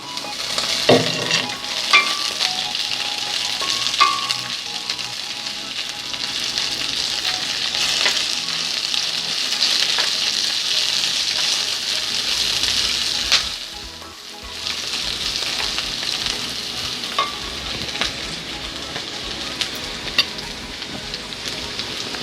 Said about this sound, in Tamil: வெங்காயம் வந்து 2 நிமிஷமாக வதக்கி கொண்டிருக்கிறேன்